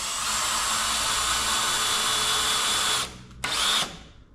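A power drill drives screws into wooden bookshelf boards, a loud steady whine running for about three seconds, cutting off briefly, then a short second burst before stopping.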